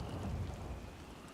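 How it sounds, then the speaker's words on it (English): Steady rain pours down in the DayZ survival game, a dense, even wash of falling water heard close and alone with no talking. "we can get some protection from the rain"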